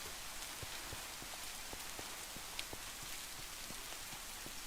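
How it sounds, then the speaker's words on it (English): Steady rain patters across the ground in a video game, a dense hiss of drops with scattered sharper taps, continuous and fairly quiet with no one talking. "Especially in the rain."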